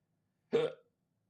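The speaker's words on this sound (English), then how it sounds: "Oh, I got the fucking hiccups." A single sharp hiccup, close and fairly loud, bursts out alone in an otherwise quiet moment.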